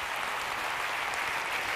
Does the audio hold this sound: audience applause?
yes